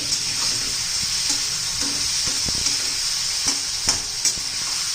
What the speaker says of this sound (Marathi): हे 2 मिनिटं आपण परतून घेऊया